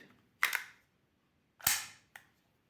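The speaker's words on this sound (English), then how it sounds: "I'm just gonna insert the magazine inside." Magazine sliding into an Ekol Jackal Dual blank pistol during cleaning: a few sharp metallic clacks, close and distinct, separated by short silences.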